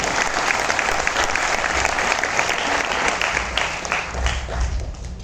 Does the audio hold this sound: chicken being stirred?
no